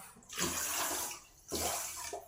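Two short bursts of water pouring splash into a rice pot close by, separated by a brief pause.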